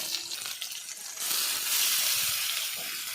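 Bay leaves and chopped tomato hitting hot oil in a pan, a bright hissing sizzle that surges louder partway through and keeps crackling steadily.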